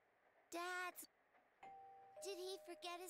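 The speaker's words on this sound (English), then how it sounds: "That doorbell. It's really accurate." A two-tone doorbell chime rings twice, bright and close, in the video game Persona 4 Golden, with a voice briefly talking in between.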